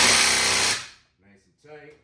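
Ryobi power tool running at high speed as it tightens brake caliper bolts on a 2007-2012 Dodge Nitro, a loud close whir lasting under a second before it stops, followed by brief quiet talk.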